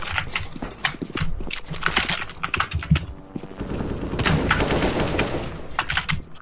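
AK rifle fire crackles in rapid bursts in the CS:GO video game, loud and close, mixed with the clatter of computer keyboard typing.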